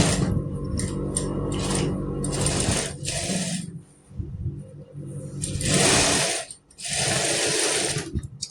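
A sewing machine stitches a cotton kurti in loud, rapid mechanical bursts, running steadily at first, then pausing and starting again in separate runs with brief quiet gaps between them.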